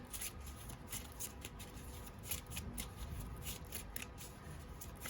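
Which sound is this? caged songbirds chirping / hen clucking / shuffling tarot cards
shuffling tarot cards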